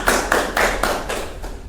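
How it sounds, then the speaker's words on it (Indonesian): Applause from an audience at a talk show about freight rail in Semarang, a short burst of about five or six loud, sharp clap bursts in an uneven rhythm, heard close with no talking. "Oke, tepuk tangan semuanya."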